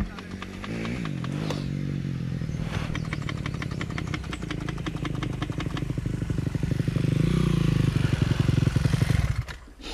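An off-road rally car's engine idles in neutral with a rough, rapid throbbing that rises slightly toward the end, while people talk nearby over it.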